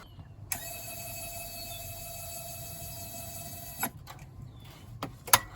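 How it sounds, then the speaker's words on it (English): A DIY retractable docking pin on a V6 Frontier wheelchair is lowered with a steady electric motor whine that runs for about three seconds and then stops. A few faint clicks follow, and one sharp click comes at the end. "But first I have to put the pin down."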